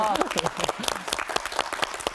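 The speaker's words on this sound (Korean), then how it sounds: "우리 부부께 박수 한번 부탁드립니다." Applause for a couple after an environmental lecture, a short patter of clapping from a seated audience with a speaker talking over it.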